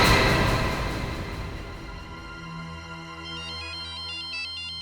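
A mobile phone ringtone plays in a household scene of a horror drama, a loud electronic melody that fades and then returns as a repeating pattern of bright tones, with no talking.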